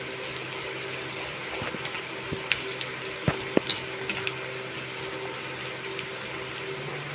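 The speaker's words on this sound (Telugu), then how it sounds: "మనమైతే దీన్ని డీప్ ఫ్రై చేసుకుంటున్నాం" Onions deep frying in hot oil for a Hyderabadi dum biryani, a steady close sizzle with occasional stirring clinks and small pops, no voices.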